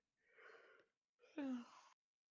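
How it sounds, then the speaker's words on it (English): A person yawns close to the microphone in two breathy phases, a soft inhale followed by a louder, drawn-out exhale with a voiced, falling groan, then silence. "I am sorry for yawning in your ears"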